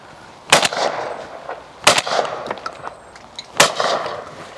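A semi-automatic shotgun fires 24 gram shells in three sharp, loud reports spaced more than a second apart, each followed by a short outdoor echo.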